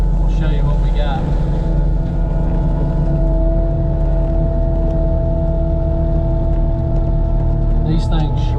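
A new mulcher with fresh knives shreds ground near sand and rock, a loud, continuous rumbling engine roar with grinding bursts, steady and close throughout the clip.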